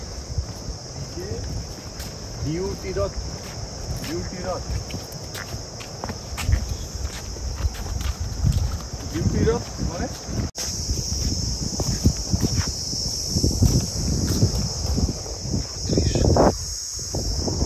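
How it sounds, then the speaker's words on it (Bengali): Crickets chirp steadily in a roadside area near Bakkhali on the Bengal coast, a constant high insect trill under scattered footsteps, rustling and occasional faint voices, growing louder toward the end. "প্রথম কথা এই যে সেই ঝিঝি পোকার আওয়াজ"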